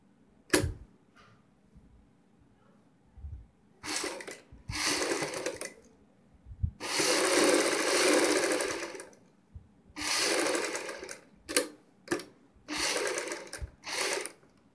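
A sewing machine stitching piping onto a kurti neckline with buckram, running in several short bursts of whirring separated by pauses, close and clear with no talk.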